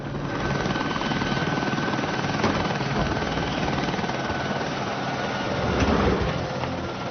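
A helicopter's steady, throbbing rotor and engine drone in an animated series episode, loud and continuous, with no voices.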